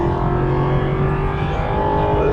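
An Aston Martin V8 Vantage's V8 engine holds a loud, sustained, throaty drone with a strong harmonic hum, heard alone and close up.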